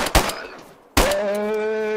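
Two sharp gunshots crack in DayZ on PS5, the first near the start and a second louder one a moment later, followed by a sustained ringing tone.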